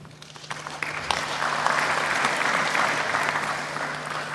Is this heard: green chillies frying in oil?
no